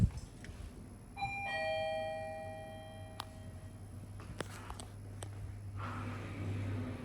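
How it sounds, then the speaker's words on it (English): A Mitsubishi traction service elevator at the Yanqi Convention & Exhibition Center sounds a loud two-tone electronic chime with ringing, sustained notes, then mechanical clunks and a low motor hum in a quiet space. "Gosh, that chime is so loud."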